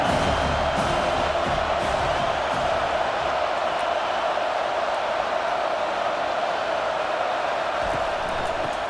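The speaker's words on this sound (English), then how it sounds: "This crowd, full throat, splitting the eardrums" A packed stadium crowd in a College Football 25 matchup between Missouri and Auburn roars continuously at full volume for the whole stretch, a dense, unbroken wall of cheering and whooping.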